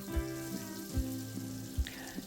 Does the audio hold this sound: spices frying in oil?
yes